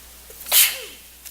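A single sharp sneeze breaks the quiet of a board meeting room, a brief close burst with a faint breath before it and a soft trailing sound after.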